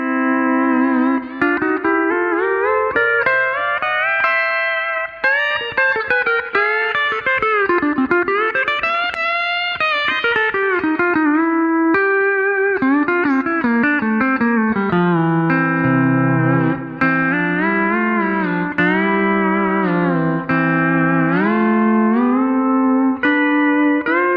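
A pedal steel guitar plays a smooth, sustained melody with gliding bends between notes and swelling chords, in a modern country style.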